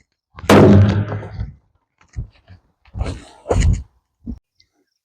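Gunfire at a steel barrel during a test of an Olight Osight sight, with one loud shot followed by several shorter, sharper reports and impacts spaced irregularly apart.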